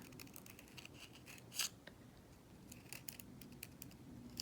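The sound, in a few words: scissors cutting crepe paper leaf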